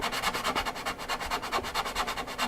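Rhythmic hand-sanding of polyester resin and microballoon filler on a wing fairing of a SIG Kougar model plane, close up, with quick even back-and-forth strokes at roughly six per second.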